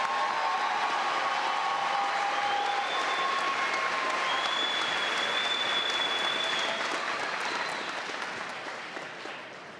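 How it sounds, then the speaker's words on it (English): Broad, continuous applause fills a spring commencement hall for new master's graduates, a dense wash of clapping with faint whistles or cheers, gradually tapering off at the end. "Let's have a final applause for our new master's graduates."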